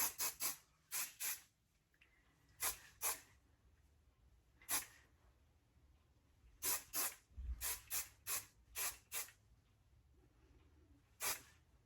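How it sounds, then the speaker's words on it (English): Bedhead Hardhead Extreme Hold hairspray sprayed from an aerosol can in about fifteen short, sharp hissing bursts, some in quick pairs and runs, close and fairly quiet with no talk. "now I'm just gonna finish up with some hairspray"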